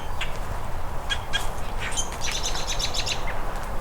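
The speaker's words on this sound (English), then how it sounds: "There's a robin." An American robin calls outdoors, a few short chirps followed by a quick run of high, clipped notes over constant background noise, moderately close, no talking.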